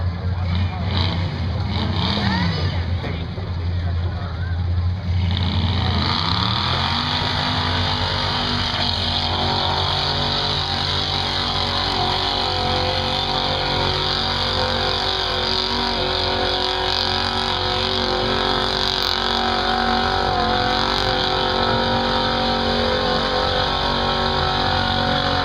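An old, heavy truck roars through a mud bog pit, its engine droning loudly and steadily at high revs for the whole stretch, with the pitch shifting as it strains forward.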